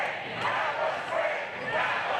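A professional wrestling arena crowd roars in reaction to a near-fall pin. The dense, sustained noise of many voices swells and dips over a couple of seconds at a moderate distance, with no clear single voice rising above it.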